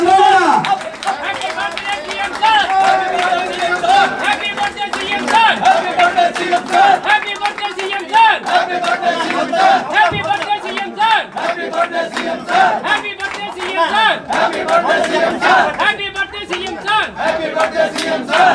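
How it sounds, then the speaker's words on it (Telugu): A large crowd at a temple event for Chandrababu Naidu, with loud, continuous cheering and shouting under some clapping, sustained and dense throughout. "అందరూ కూడా చంద్రబాబు నాయుడు గారు గట్టిగా చప్పట్లు కొట్టాలి"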